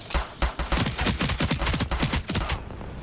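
Rapid bursts of gunfire from the ARPG video game Seven Cities, with shotguns, pistols and machine guns, cracking in dense overlapping volleys for nearly three seconds before stopping abruptly.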